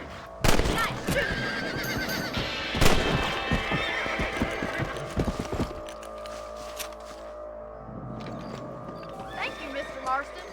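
A horse whinnies loudly in Red Dead Redemption, followed by rapid clip-clopping hooves and game sound effects, with voices talking over parts of it.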